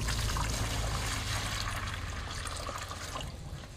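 Water poured into a cracked object sealed with gum to test for leaks, making a faint continuous trickling and splashing.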